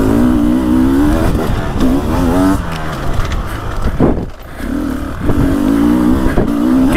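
A Beta 300 Race Edition two-stroke dirt bike engine revs hard and close, rising and falling in pitch through several throttle blips, with a brief dip before climbing again.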